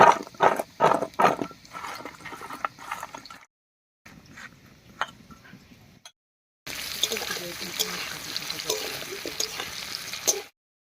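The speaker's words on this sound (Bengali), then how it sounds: "আলুটা ভাজা হতে থাক" Potatoes salted and dusted with turmeric fry in a pan for a vegetarian pointed gourd and moong dal dish, giving a close sizzling hiss broken by stirring clatter, with talking over parts of it.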